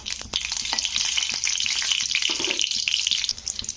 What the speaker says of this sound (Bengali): শুকনো লঙ্কাগুলোকে একটু ভেজে নিতে হবে লাল করে।